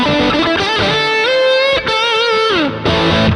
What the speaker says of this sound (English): So it's full drive now, quite a heavy saturated sound.